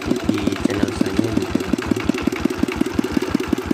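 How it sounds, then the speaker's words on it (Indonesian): A single-cylinder Dongfeng 16 HP diesel engine with an NS injection pump idles close by, knocking out a loud, steady, rapid chugging beat of evenly spaced thumps. "mesin diesel satu piston Dongfeng 16 EKS Dongfeng dengan pompa NS"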